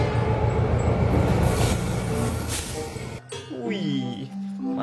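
A model CC206 locomotive runs with a steady rolling rumble and rattle for about three seconds, then stops, and a person talks briefly afterward.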